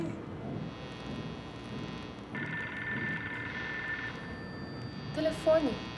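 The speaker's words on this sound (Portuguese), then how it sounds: "Telefone." A telephone rings in a short film, a steady electronic tone starting midway and holding for a couple of seconds amid room noise, followed by a brief louder burst.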